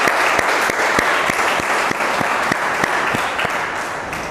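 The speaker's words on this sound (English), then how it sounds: "Please clap for Tanya." Students clap at a school event after a classroom speech, a steady, dense burst of applause that stays loud and even throughout with no talking over it.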